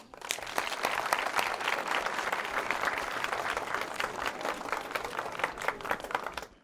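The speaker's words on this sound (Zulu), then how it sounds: "ihlombe lapha" A crowd applauding at a high school visit by a charity foundation, dense continuous clapping at moderate volume for several seconds before fading at the end.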